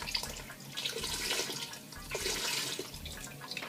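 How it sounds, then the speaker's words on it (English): Beef broth is poured into a thick pot of red chili, a soft liquid splashing and gurgling in two gentle surges, fairly quiet and close. "So I'm actually going to add some more beef broth."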